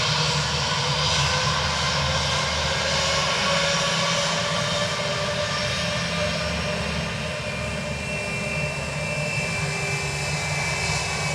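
A Ryanair jet from Manchester landing at Dublin Airport produces a loud, unbroken engine roar that stays nearly level throughout, close and constant.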